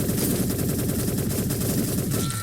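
AK-47 fire in the egg-themed shooter Shell Shockers, a dense, continuous burst of rapid automatic shots, loud and close, with no talking.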